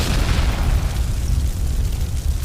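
Beirut port explosion in Lebanon: a loud, sustained rumbling blast roar with a dense low-end boom that keeps rolling without pause.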